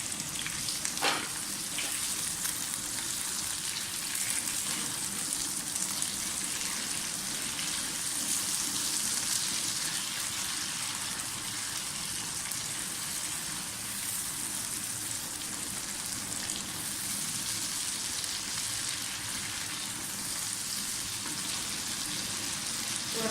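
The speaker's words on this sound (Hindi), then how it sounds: "प्याज के बाद आपको टमाटर और हरी मिर्चें भी डाल दें, इनको भी थोड़ा सा करें ये नरम हो जाए।" Onions, tomatoes and green chilies fry in a pan with a steady, close, hissing sizzle that holds evenly throughout without any speech.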